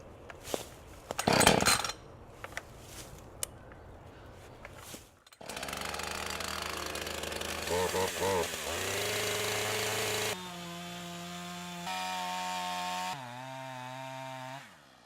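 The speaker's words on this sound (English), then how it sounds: "the next step is to take it off a choke and pull it until it fires." Jonsered chainsaw being started: quiet handling, a burst of pull-cord rasping, then the engine fires and runs loud with high revving, settling into steady idles at shifting pitches.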